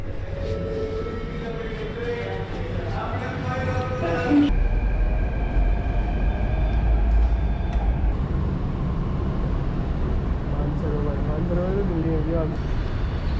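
Steady low rumble of a Jaipur Metro train in motion, with a tonal whine rising and holding, while people talk nearby throughout.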